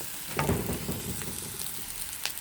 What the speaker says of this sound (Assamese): এয়া অলপ ৰঙচুৱাকৈ ভাজি দিম।